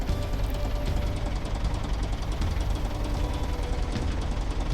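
A tractor engine runs steadily in the Professional Farmer 2014 farming game, a loud, continuous rumbling drone with a fine rapid knock, heard alone without talk.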